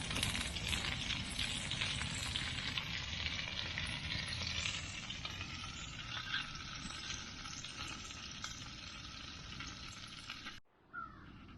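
Breakfast frying in a skillet on a stove inside a hot tent, a steady dense sizzle and crackle holding loud for about ten seconds, then cutting off abruptly near the end.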